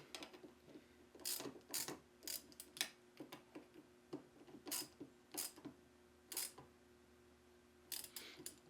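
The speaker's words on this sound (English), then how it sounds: "we're just going to finish tightening up all the bolts here" Bolts being tightened on a Q1R quick release mount, a series of short ratcheting clicks in uneven bursts, close and fairly quiet, with no talking.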